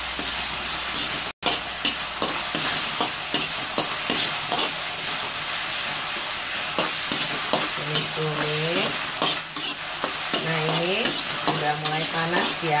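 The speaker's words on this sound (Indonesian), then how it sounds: "Kita mau tumis-tumis." Juhi (dried squid) and shallots are stir-fried in a hot pan, with a loud, continuous sizzle and repeated scraping strokes of the spatula. Short tonal squeaks and clatters come through in the latter half.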